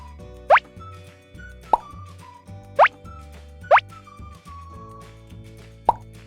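A Play-Doh round shape stamped out with a toy stamping tool for a pretend dentist nozzle: several soft, close plops and taps at uneven intervals, with quiet music underneath.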